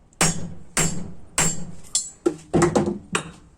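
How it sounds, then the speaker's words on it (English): Seven sharp metallic hammer strikes driving a valve guide into a Chrysler 420A engine cylinder head, evenly spaced and close, ringing briefly after each blow with no voices. "I'm gonna actually hammer it"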